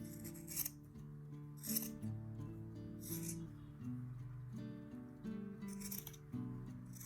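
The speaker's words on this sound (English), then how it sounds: "Cut out the rectangle by following the lines you just drew." Scissors snip through a folded rectangle of sweater knit fabric, a steady series of close, quiet cutting strokes with no talking.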